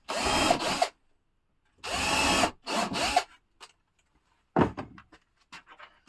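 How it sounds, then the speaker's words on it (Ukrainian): A power screwdriver drives screws into beehive wood in loud, close, whirring bursts, several in a row with pauses between. A few short scrapes and knocks of handling fill the gaps. "крутю три шурупа, семерки"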